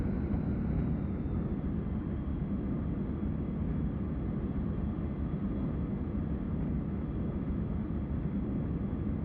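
A Saab Viggen jet in the DCS flight simulator taxis with a little throttle, its engine a steady, dense rumble and whine heard from the cockpit, unbroken for the whole stretch.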